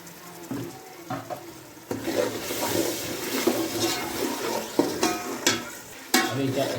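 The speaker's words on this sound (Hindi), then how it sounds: "अभी चने डाल दिए और इसको अभी 5 मिनट इसकी बुनाई करनी है।" Soft boiled black chickpeas tumble into a pot and are stirred with a spoon, giving a wet, scraping churn with a few sharper knocks, close and fairly loud.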